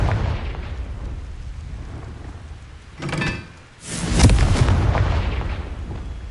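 Confringo blasting spell from Hogwarts Legacy, a whooshing cast followed by a heavy booming explosion that swells and rumbles out over several seconds, loud and close, with no voices.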